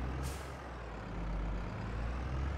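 A farm vehicle in Farming Simulator 22 backs up with a low, steady diesel engine drone and a brief hiss of air release at the start, close and without talk.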